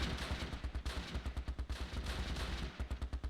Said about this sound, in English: They did take another pot shot with the cannon.